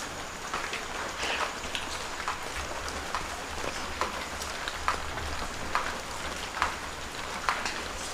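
Rain falls steadily around an abandoned roadside house in Tasikmalaya, a dense hiss broken by scattered louder drips and patters, close and continuous with no talking.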